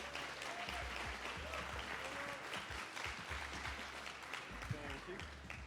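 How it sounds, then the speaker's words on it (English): Applause from an esports tournament audience at a grand final event as a guest is welcomed on, a steady broadband wash of clapping lasting several seconds with a low hum underneath. "Round of applause, please."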